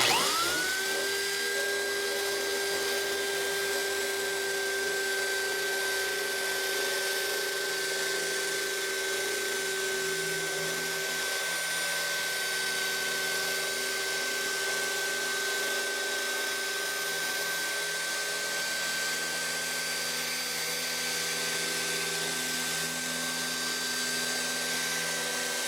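A power drill bores steadily into the plastic top of an IBC tote, giving a continuous high whine with a sustained grinding tone that runs loud and unbroken throughout.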